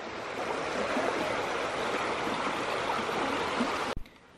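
A small stream flows steadily through a rural village, its water rushing in a constant dense wash that stays loud and even before cutting off abruptly near the end.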